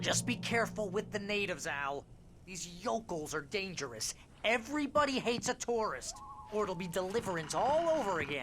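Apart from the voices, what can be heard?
None of the usual background noises is heard.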